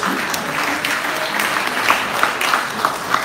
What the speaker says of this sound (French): Donc merci les étudiants, on peut les applaudir.